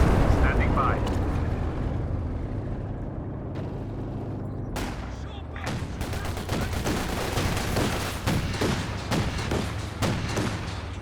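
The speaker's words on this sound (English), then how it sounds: "Nice walking Stuka strike." Company of Heroes 2 battle with a Stuka dive bomber strike: scattered booms early on, then a dense run of repeated blasts and crackling fire that walks along in quick succession while commentators talk throughout.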